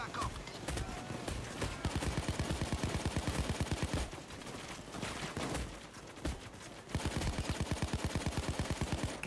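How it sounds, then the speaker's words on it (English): Rapid automatic gunfire in a bank robbery video game, long rattling bursts of evenly spaced shots separated by brief pauses, loud and continuous, with faint background game noise. "I'm quite busy shooting at a minute."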